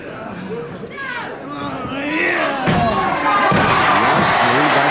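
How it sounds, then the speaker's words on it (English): Wrestling drop kick lands with a sharp thud and slam amid a loud, noisy arena crowd at a televised World of Sport match, commentary talking over the steady crowd roar. "Nice lean back drop kick."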